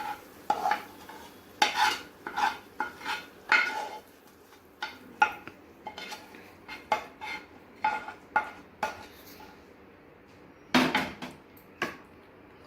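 Kaju paneer butter masala is scraped and spooned from a pan into a serving bowl, with a series of close, sharp clinks and scrapes of a metal spoon against cookware, irregular and spaced by brief quiet gaps.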